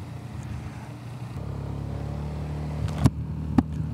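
A BMW motorcycle cruising alone on a mountain road in South Tyrol, with a steady low engine drone and rumbling wind noise, broken by two sharp bumps or clunks near the end.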